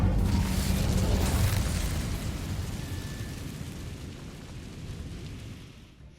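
An Incendio fire spell going off in Hogwarts Legacy, a loud booming burst of flame that rumbles and roars at full strength before slowly dying away over several seconds.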